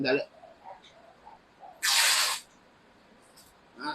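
A single short burst of silicone oil spray, roughly half a second of close hiss, aimed at the inlet bulb of an airsoft gun, with quiet handling sounds before and after.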